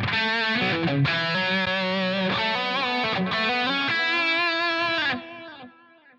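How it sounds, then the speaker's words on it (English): Electric guitar played through a Line 6 Helix with distortion and delay engaged, ringing sustained distorted chords and notes that fade out in a trailing delay tail at the end, loud and alone without talk. "As soon as I switch to snapshot 2, the distortion is engaged and the delay is engaged."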